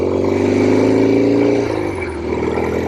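A 1967 Norton P-11 desert racer motorcycle engine runs steadily and loud while ridden on gravel, its pitch dropping and settling partway through as gears are shifted.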